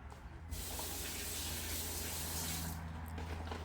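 Tap water runs steadily and fairly loudly into a sink as coconut shells are washed under it, a continuous splashing rush with no talking.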